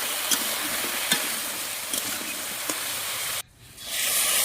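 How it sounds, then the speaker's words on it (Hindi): Vegetables such as beans, potato and brinjal frying with turmeric in a village kitchen, a steady close sizzle with faint stirring clicks, cut off abruptly near the end before the hiss resumes, no talking. "हल्दी दे भाजी नेली"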